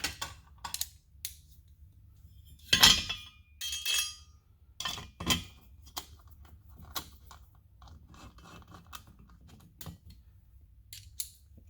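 A wrench works countersunk bolts while Air Lift 5000 overload air bags go onto a Ram 1500. Sharp metallic clinks and ratchet clicks come in scattered bursts over a quiet background hum, with no talk.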